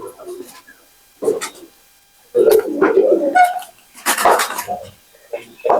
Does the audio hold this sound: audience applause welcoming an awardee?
no